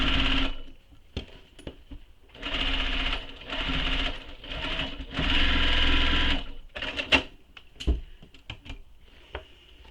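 A sewing machine stitches a tote bag in several loud bursts of rapid whirring, with short pauses and clicks between runs.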